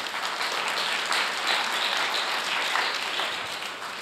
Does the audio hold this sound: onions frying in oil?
no